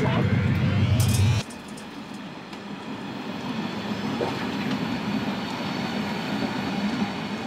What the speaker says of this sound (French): C'est une gare de triage, donc les trains ils arrivent aux 2 faisceaux